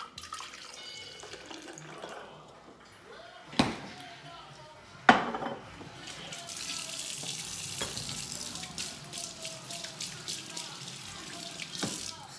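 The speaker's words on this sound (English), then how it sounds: "Sorry, y'all, I had to wash my hand." Water runs from a kitchen tap as hands are washed, a soft steady hiss with a couple of sharp knocks and clatters partway through, fairly quiet and close.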